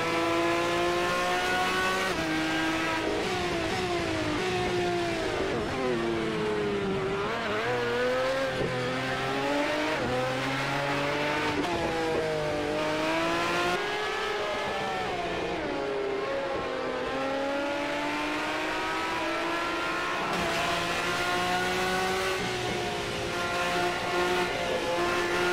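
A Lamborghini race car in Automobilista 2 on a new circuit: a loud, continuous engine whine rising and falling through gear changes and braking, with tires squealing briefly.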